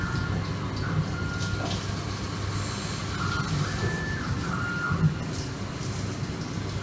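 CNC grinder grinding a chamfer on a workpiece, a steady, even machine roar with faint higher tones drifting over it, running without a break from start to finish.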